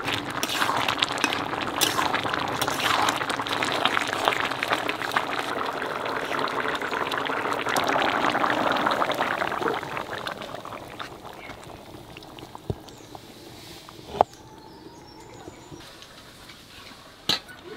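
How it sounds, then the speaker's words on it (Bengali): A pot of thin shrimp curry simmers and bubbles steadily on the stove, loudest for the first ten seconds before settling into a softer simmer punctuated by a few sharp clicks. "মাছ দিলাম আর 2 মিনিট মতো জাল দিয়ে নামাই দেবো।"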